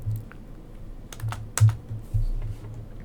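Scattered keystrokes and clicks on a computer keyboard while entering a bond price calculation, quiet and irregular, with a few louder taps and no talking.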